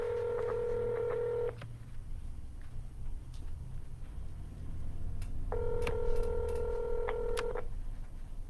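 Two bursts of telephone keypad tones punch out quick sequences of digits during real estate cold calling, separated by a few seconds of quiet room hiss, with no talk.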